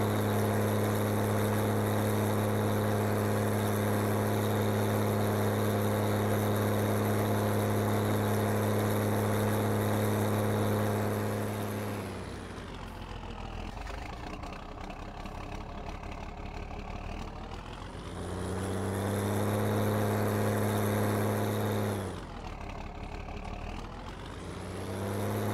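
Tractor engine straining while pulling a heavy trailer in Farming Simulator 19, a continuous droning hum that drops in pitch and load midway, rises again, then dips once more, with no voices.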